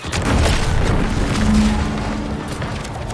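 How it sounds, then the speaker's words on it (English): A deep, rumbling explosion in the video game The Outer Worlds 2 rolls out as a sustained, loud boom lasting about three seconds, with no talking over it. "What's that? An explosion?"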